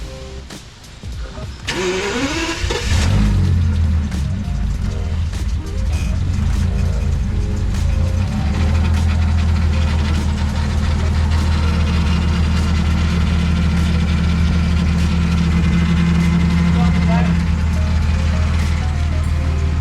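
A damaged Bentley car cranks and fires up, then settles into a loud, steady, close engine drone with rising revs, and voices talk briefly at the start.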